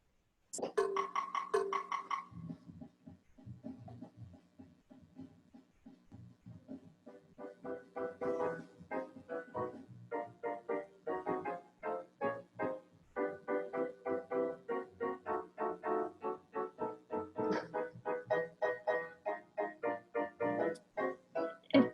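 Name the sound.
music app playing chord backing track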